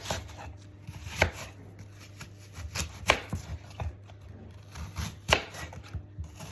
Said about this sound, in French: Je prends un couteau. Je prends les pommes. Puis je les coupe.